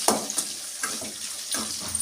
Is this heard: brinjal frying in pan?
yes